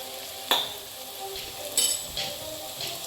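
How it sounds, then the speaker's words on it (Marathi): Pav bhaji masala, chilli, turmeric and garam masala being sautéed in a pan: a steady close sizzle with a few sharp spoon scrapes and clinks against the metal. "आता हे मसाले आपण चांगले परतून घेऊया"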